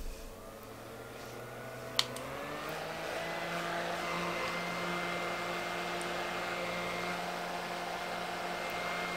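A hair dryer blows continuously to set a setting spray on a face after makeup, a quiet, steady whooshing hum with a faint motor whine and a brief click near the start.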